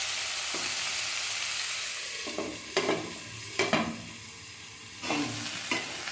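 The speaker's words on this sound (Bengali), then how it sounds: "এবার সবজিগুলোকে ভালো করে ভেজে নিচ্ছি, তবে ঢাকা দিয়ে দিয়ে ভাজবো" Marinated vegetables fry in a covered pan, giving a steady close sizzle broken by several sharp scraping stirs, with no voices.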